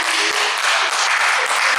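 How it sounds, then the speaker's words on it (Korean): A church congregation at a revival service claps in sustained, dense applause that stays close and loud throughout. "하나님께 영광 박수."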